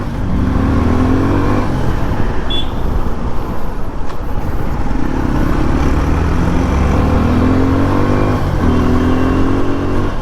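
Motorcycles, a Yamaha FZ version 3 and a Tiger, riding a highway at night, a loud, steady engine drone with rising and falling pitch sweeps as the throttle changes, under heavy wind rush.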